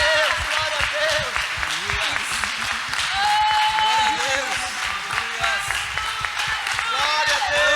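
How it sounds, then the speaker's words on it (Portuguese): A church congregation at a Sunday worship service keeps up steady applause, with voices and tonal worship sound running over the clapping throughout. "Que bom ouvir esses aplausos"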